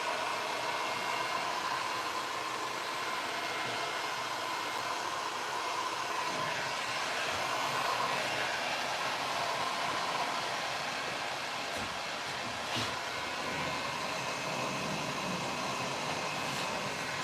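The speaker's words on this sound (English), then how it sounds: "Once I'm not running the heat gun" A heat gun runs on painted furniture during French country paint finishing, giving a steady, even, close airy roar that holds without a break for the whole stretch, with no talk.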